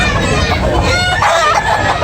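A gamecock crows loudly and close by at a chicken market in Tabunok, Talisay, with clucking and the busy babble of traders and buyers talking around it.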